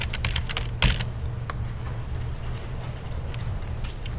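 Computer keyboard keys tapped in a quick run of soft clicks, followed by a few scattered taps over a steady background hum, close by.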